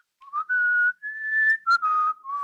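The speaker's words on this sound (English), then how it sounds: "then you hear that beautiful penny whistle." A penny whistle melody from the Lord of the Rings film: clear, sustained high notes sliding smoothly from one pitch to the next, played alone at moderate volume with short breaths between phrases.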